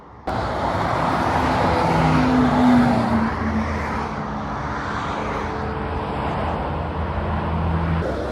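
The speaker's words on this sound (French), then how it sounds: "c'est vraiment une F430 Spider juste" A Ferrari F430 Spider passes on the A28 motorway near Le Mans, its engine a steady broad roar that swells slightly midway and holds loud against ongoing traffic noise throughout.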